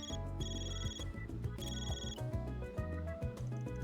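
A phone rings in the video game Trails through Daybreak, a steady repeating electronic ringtone pattern playing over background music at moderate volume.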